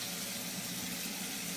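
Hot water runs steadily from a tap, a soft continuous splashing rush at low volume with no talking over it.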